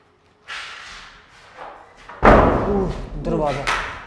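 A door slams shut inside a supposedly haunted hospital during a ghost hunt, one sharp, loud thud standing out amid nearby voices and rustling.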